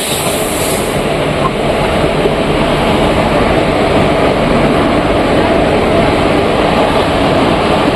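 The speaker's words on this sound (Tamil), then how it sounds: "இதுதான் வந்துட்டு நம்ம போக போகிற ட்ரெயின்" A passenger train pulls into a crowded station platform for an unreserved journey, giving a steady, loud rumble and hiss that holds at an even level throughout, with faint crowd murmur mixed in.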